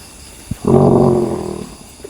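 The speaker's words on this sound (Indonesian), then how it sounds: "Ngorok." A person snoring close by, one long rough rasping inhale preceded by a brief sniff, loud and alone in an otherwise quiet room.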